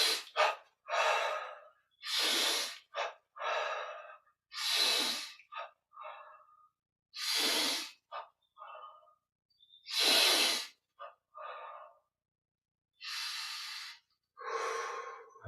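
Deep breathing paced by guided meditation: strong, rushing inhales and exhales repeat close to the microphone in an uneven rhythm, some quick and sharp like gasps, others long, with short silent pauses between breaths.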